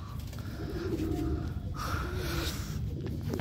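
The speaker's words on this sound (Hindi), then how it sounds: "काफ़ी तगड़ा कबूतर है लाल" A red pigeon cooing close by, a low steady murmuring coo over a constant rumble of background noise, with no talk.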